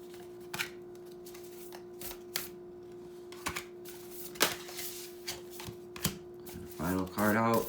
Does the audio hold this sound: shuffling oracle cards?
yes